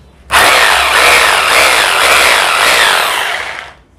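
A power drill bores a 3-inch-deep hole into a wall for an anchor fastener. It gives a loud, steady, close whirring grind that starts abruptly, holds for about three seconds and then winds down, with no talk over it.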